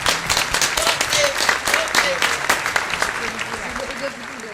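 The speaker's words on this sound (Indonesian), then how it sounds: "Tepuk tangan." Audience applause fills a Batak-style stand-up comedy show, a dense sustained wash of many hands clapping at steady loudness, with faint tonal voice-like traces woven through.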